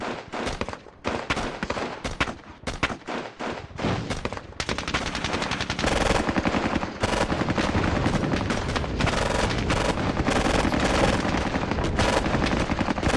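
Gunfire in the Squad Battles Eagles Strike wargame: sparse scattered shots at first, then a long dense barrage of rapid automatic fire that continues steadily to the end.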